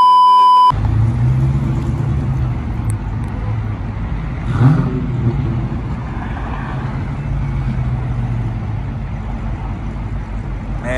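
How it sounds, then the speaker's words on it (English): A Dodge Challenger Hellcat and a Dodge Charger Hellcat rev before a race, giving a steady, heavy low engine rumble that swells briefly near the middle and then holds at a constant roar. "these two right here, they trying to race. Both Hellcats, Challenger Hellcat, and you got the Charger Hellcat right there"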